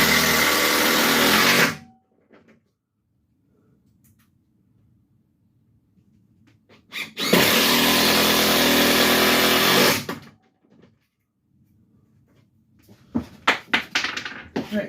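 A power drill drives fasteners into the wooden floor framework of a shuttle bus conversion, with two sustained loud whirring bursts of a few seconds each separated by quiet, then a few short trigger pulses at the end.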